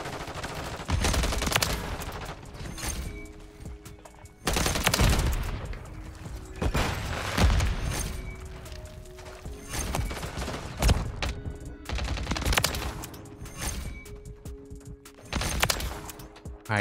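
Striker gunfire in Call of Duty: Modern Warfare III, heard as repeated bursts of heavy shots with mechanical clicks and reload clatter between volleys.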